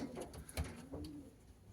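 Racing pigeons in a loft, soft low cooing and rustling from several birds close by, quiet and steady with no talk.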